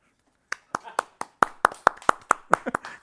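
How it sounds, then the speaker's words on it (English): A single person clapping hands, about a dozen sharp, close claps in an uneven rhythm after a brief silence, growing quicker toward the end. "Don't applaud for yourself."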